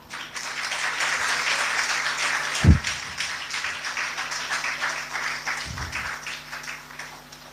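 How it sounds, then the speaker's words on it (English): Audience applause for children at a school annual celebration, a steady moderately loud wash of clapping from a hall full of people, with one sharp thump partway through and no talking. "A huge round of applause for our children."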